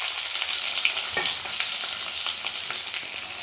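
Onion dropped into hot oil with radhuni seeds and green chilli, a bright, close sizzle with steady crackling and a few stirring knocks, continuous and fairly loud without any talk.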